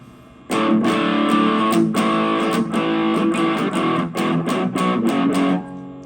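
Heavily distorted electric guitar chords through a Mosky SOL 918 pedal ring out in a series of loud, crunchy strums, sustained and saturated, then stop abruptly.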